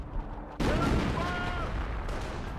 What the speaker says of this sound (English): And here comes 25 pounder barrage.